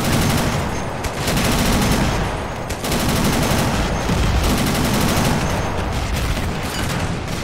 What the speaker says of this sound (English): here I'll take a shot tracking this vehicle